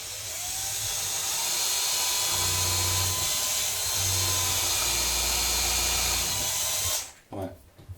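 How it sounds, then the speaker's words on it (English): A power drill whines steadily and loudly for several seconds, its pitch dipping as it binds while boring into the wooden stock of a BSA Lightning air rifle, then cuts off abruptly near the end. "You'll feel the drill bind up."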